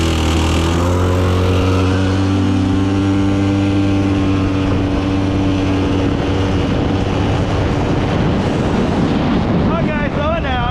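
Engine of an abandoned Polaris Scrambler 400 ATV being ridden, a loud droning run with steady tones that shift pitch as it speeds and slows, heavy wind buffeting the microphone throughout.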